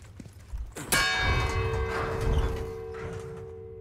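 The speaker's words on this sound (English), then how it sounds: "You ring the bell to distract them because they can't see you" A large bell in Resident Evil 4 Remake strikes once loudly and rings on with a long, shimmering metallic decay over low rumbling game ambience.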